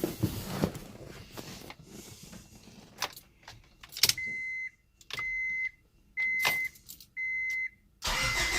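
Honda Prelude SH jacked up in a garage, with keys jangling and rattling, then an engine starting up and a repeated electronic chime beeping at regular intervals over a faint engine.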